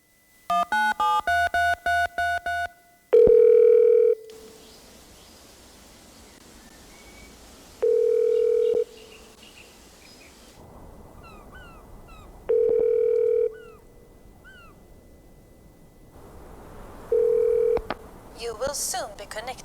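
Telephone call being connected: a quick burst of dialing tones, then a repeated ringback tone sounding in four evenly spaced pulses with quiet gaps between them, clear and fairly loud.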